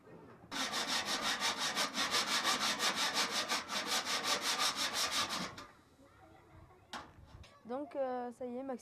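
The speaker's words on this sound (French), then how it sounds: "Maxime a scié le tonneau avec la scie à métaux" A hacksaw cuts through a metal barrel with a steady, fast back-and-forth rasp of even strokes for several seconds, then stops; a voice speaks briefly afterward.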